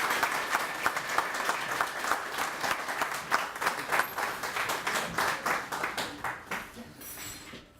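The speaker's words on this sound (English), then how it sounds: "So let's have a big round of applause for all of them." Audience applause for award nominees at a downtown business association awards ceremony, a steady dense clapping that carries for several seconds and thins out toward the end.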